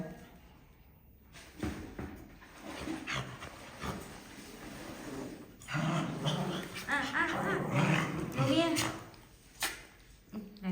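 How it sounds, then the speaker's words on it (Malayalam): A puppy growls and yips in short bursts, close by, while people talk and coo over it. "ഇതാണ് അമ്മായിന്റെ ആദ്യത്തെ പട്ടിക്കുട്ടി"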